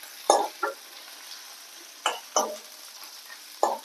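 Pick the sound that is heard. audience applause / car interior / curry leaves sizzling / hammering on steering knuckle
curry leaves sizzling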